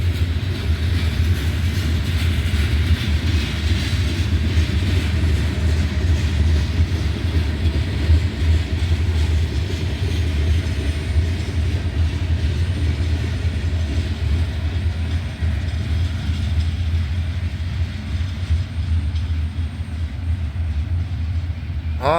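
A long freight train of loaded soybean grain hopper cars rolls past with a steady, deep, heavy rumble that stays loud and even for over twenty seconds and eases slightly toward the end.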